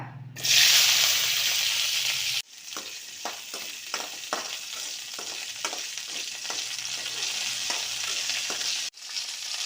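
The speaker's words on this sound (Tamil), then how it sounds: "பச்சை மிளகா வதங்கின பிறகு கீரை அள்ளி வைக்கிறேங்க" Green chillies sauté in a pan, starting with a sharp, loud burst of sizzle. A steadier frying hiss follows with a run of quick scraping stirs, all close and without speech.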